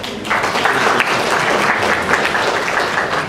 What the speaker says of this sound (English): Give Taylor a round of applause.